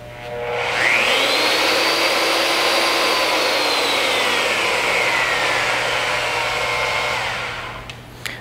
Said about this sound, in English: Press the trigger switch for a second time and hold to return to the 0 degree starting position.